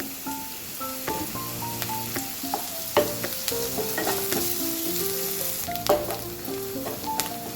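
Onions frying in oil in a pan for a paneer curry give a steady, close sizzle that runs the whole time, with no voices.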